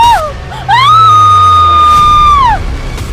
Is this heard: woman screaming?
yes